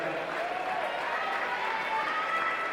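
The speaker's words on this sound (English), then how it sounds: "Give a big round of applause for Quinton Hurley, ladies and gentlemen." Audience applause for swimmer Quinton Hurley fills a swimming meet after a 2019 boys' freestyle final. The clapping is a steady, dense wash that holds at an even level throughout, with no single claps standing out.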